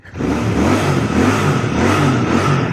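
A brand-new Royal Enfield Bear 650 motorcycle engine revs loud and close, a deep throaty rumble rising and holding steady without any talking.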